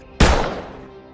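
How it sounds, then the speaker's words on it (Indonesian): A single sharp gunshot in an action film about a motorcycle gang, with a loud, close crack and boom followed by a rumbling tail that fades over about a second. "Mendengar suara tembakan"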